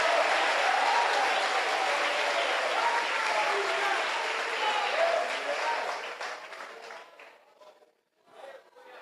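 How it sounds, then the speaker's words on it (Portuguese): A church congregation at an evening worship service applauding, a loud dense burst of clapping with crowd murmur that holds steady, then thins and breaks into scattered claps near the end. "Aplauda Jesus de Nazaré."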